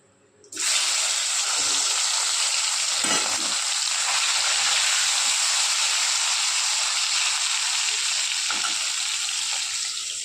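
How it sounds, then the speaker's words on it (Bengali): Pieces of shol fish coated in salt and turmeric hit hot oil and break into a loud, steady, close sizzle that holds evenly throughout. "এবার এগুলোকে নুন হলুদ মাখিয়ে রেখেছিলাম, একটু ভেজে নেব।"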